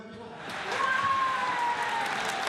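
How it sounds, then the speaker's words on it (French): Theater audience applause swells after a half-second and holds as a dense, steady wash of clapping, with a faint sustained tone running through it. "Tonnerre d'applaudissements pour l'enfant du pays qui fait rire les salles depuis 70 ans."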